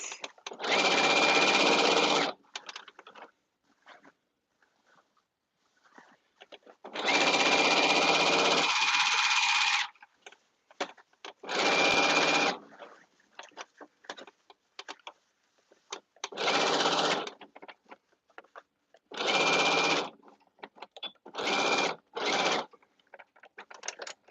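A sewing machine stitches stiff caftan fabric in a studio, running in several loud close bursts of steady rapid whirring separated by pauses filled with light handling noise.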